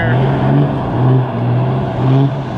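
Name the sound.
tuned Cummins diesel truck engine in tug of war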